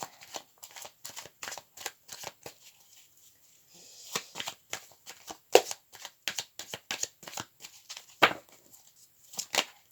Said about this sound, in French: Allez, on bat les cartes.